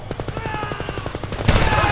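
Machine gun fire in the video game Homefront, a rapid burst of evenly spaced shots hammering out roughly a dozen rounds, followed by a louder blast of noise, close and loud.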